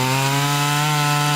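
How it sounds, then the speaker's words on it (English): A power tool runs at a volunteer community project in Daisy Vestry Park, giving a loud, steady mechanical drone that holds for the whole short stretch with no talk. "Sounds of power tools filling the Daisy Vestry Park this week"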